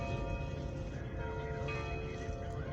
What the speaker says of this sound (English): Listen, they're doing double bells.